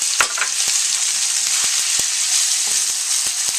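Mushrooms dropped into a hot pan of ramen stir fry with ground pork and carrots, giving a loud, steady high sizzle with a few sharp ticks and pops scattered throughout, no voices.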